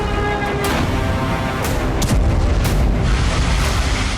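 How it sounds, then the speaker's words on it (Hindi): Heavy artillery and explosions boom repeatedly during a Russian bombardment in Ukraine, loud and close, with several sharp blasts over a constant rumbling din. "यानी 14 से ज्यादा इलाकों पर बमबारी की गई।"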